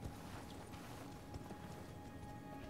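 Horse hooves clip-clop in the video game Astel Stars of Darkness, a steady, fairly quiet trotting rhythm over a constant game background with no talking.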